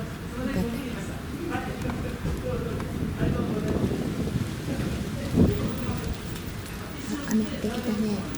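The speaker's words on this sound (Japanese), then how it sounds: "雨降ってきたね。" Rain falls steadily in a garden ahead of Typhoon No. 14, a continuous close hiss and patter with a few heavier bursts, while low voices talk underneath.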